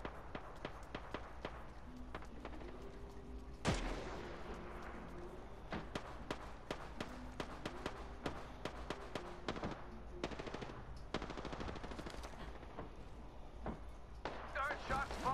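Rapid automatic weapon fire from an Apex Legends match rattles in dense bursts throughout, with scattered single shots, footsteps and in-game effects, while game voice lines and a player talk over the action.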